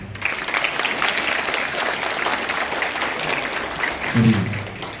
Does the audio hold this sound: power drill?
no